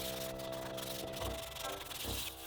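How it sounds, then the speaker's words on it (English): Steady scratchy rubbing of sandpaper against an egg shell, continuous and close, with rhythmic strokes and no voices. "this egg needs a good sanding to prepare it for glue and wood siding"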